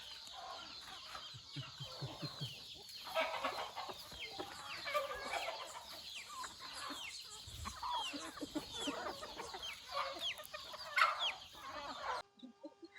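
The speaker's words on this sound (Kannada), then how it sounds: "ಇದೊಂದು ಹುಂಜ ಅಲ್ಲೊಂದು ಹುಂಜ ಐತೆ" A country-breed rooster on a small farm clucks in a string of short, uneven bursts, close and fairly quiet against a soft outdoor background.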